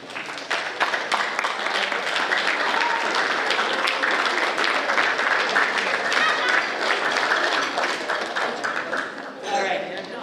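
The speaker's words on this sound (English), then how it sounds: "Band, would you applaud your families?" Middle school band students at a winter concert applaud their families: a sustained, dense wave of clapping from a large crowd fills the room for about ten seconds, steady and loud before easing slightly near the end.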